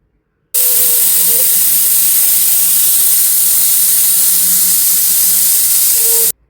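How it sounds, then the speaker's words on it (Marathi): A pressure cooker cooking chickpeas lets out a loud, continuous whistling hiss of escaping steam for several seconds, then abruptly stops. "कुकरच्या शिट्ट्या झालेल्या आहेत"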